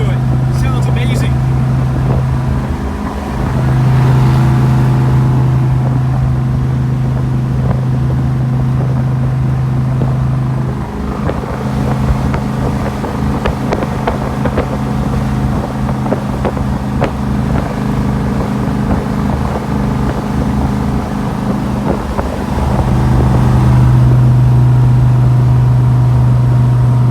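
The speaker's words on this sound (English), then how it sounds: "It's not an original motor, it is a swapped motor. Just listen to it. It sounds amazing." A 1967 Corvette C2 with a swapped big block engine drives along, a loud droning engine note rising and falling through gear changes amid wind noise, with a person talking over it.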